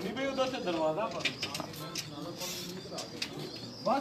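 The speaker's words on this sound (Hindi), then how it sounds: "ये फिरोजपुरी कबूतर है हमारे पास।" Ferozpuri pigeons coo close by in soft, repeated rolling calls, while a person speaks over and between them.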